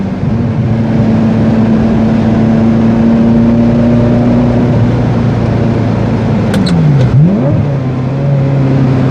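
Ferrari F355 engine on the road, a loud close drone that holds steady, then drops through a gear change and climbs again as it revs, with no talk.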